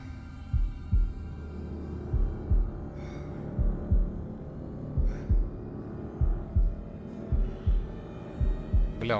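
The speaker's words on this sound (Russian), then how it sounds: "У него пульс все учащается и учащается" A video game heartbeat from Man of Medan thuds in steady double beats, a low, muffled throb repeating about once a second over a faint hum, with no voices over it.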